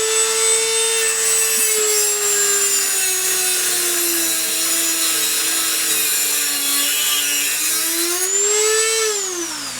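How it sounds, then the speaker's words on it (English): A Dremel rotary tool cutting through a screw clamped in a vise, a loud, close, sustained high-pitched whine that dips and rises in pitch as the cut loads and eases, ending with a brief rev. "one of the easiest ways is to use your Dremel tool"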